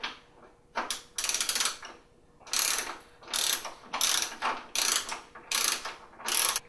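A ratchet backs out a 10mm headlight bolt on a 2006-2012 Mitsubishi Eclipse. About eight crisp, close bursts of rapid clicking are separated by short pauses.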